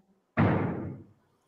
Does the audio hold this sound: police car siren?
no